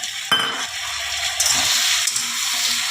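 Chopped tomatoes dropped into a hot pan for a mixed-vegetable fish-head dish, a sudden loud hiss followed by a steady close sizzle with light stirring.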